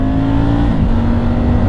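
A loud Triumph Tiger 850 Sport motorcycle engine pulling hard, its pitch climbing briefly then settling into a steady roar, close and continuous.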